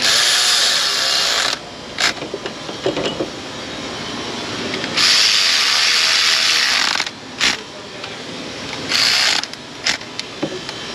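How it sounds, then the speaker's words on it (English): A hand ratchet clicks in short bursts while tightening bolts on a 2009-2012 Infiniti FX35 3.5 engine, rapid metallic pawl clicks separated by pauses and scattered tool knocks, close by. "let's get in there with our ratchet and start applying some torque now that all the bolts are started"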